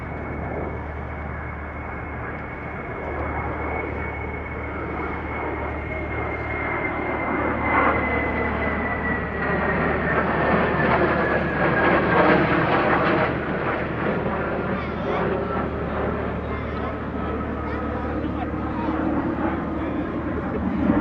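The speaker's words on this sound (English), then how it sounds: "here we see a duo of Super Hornets accompanying an A330-200 from national airline Qantas" Two Super Hornets escort a Qantas A330-200 in special pride colours on an airshow flyby, a building jet roar with a falling whine that swells past mid-pass and then holds loud, with speech faint beneath.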